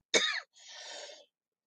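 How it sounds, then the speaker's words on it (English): A single sharp cough followed by a softer, breathy throat-clearing rasp, close and isolated against silence. "Sorry, I'm going to cough."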